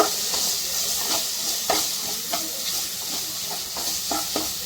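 Garlic and onions sautéing in a pan for Karapodi fish curry, a continuous sizzle with sharp scraping stirs from a spoon at irregular intervals, close up and without talk.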